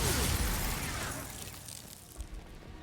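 An Expulso spell explosion in the Hogwarts Legacy video game: a loud, close burst that fades over about a second into a rumbling tail, with a few faint clicks afterwards.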